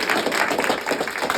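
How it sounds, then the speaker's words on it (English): Applause from a comedy show audience after the comics' sets, a dense, steady patter of many hands clapping close by, filling the short moment without pause. "One more round of applause for all the comics y'all saw."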